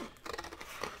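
Scissors snip through a paper template by hand, a quick close run of crisp cuts lasting about a second.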